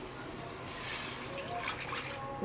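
Water poured into a frying pan while cooking Malabar spinach with pumpkin and prawns, a steady close hiss and splash that holds evenly throughout with no talking.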